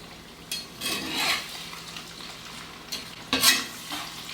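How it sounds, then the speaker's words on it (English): Chicken 65 fries in oil over medium-high heat in a pan, a quiet continuous sizzle broken by a few stirring scrapes and clinks of a utensil against the pan. "now I'm frying this in medium high heat"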